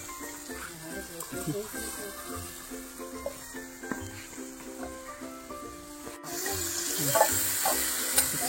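Chicken sautéing in a pan for a Bengali village-style curry, a steady low sizzle with scraping stir strokes, partly under background voices and tonal clatter.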